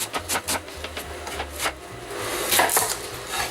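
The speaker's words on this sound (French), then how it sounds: "On va émincer le chou également" A knife cuts cabbage on a board for a rustic French peasant soup, a quick run of crisp, close chopping strokes followed by denser slicing and crunching.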